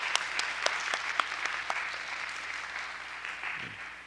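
A church congregation claps together in a soft, scattered burst of applause that fades toward the end, heard faintly from a distance.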